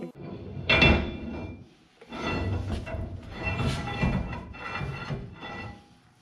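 A metal tool taps a part on a 1966 Chevrolet K20 4x4 truck in a series of sharp, close knocks in clustered bursts with brief pauses, no talking.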